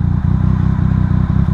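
A motorcycle engine during a rev-matched gear change, a loud, close, pulsing low drone with a rapid rhythmic thrum and slight clatter throughout the brief moment.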